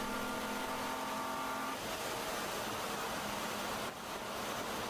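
Race car engine in an endurance race, heard from an in-car camera on the MSR Houston circuit: a steady, loud engine drone with road and wind roar, holding tone through the run and dipping briefly near the end.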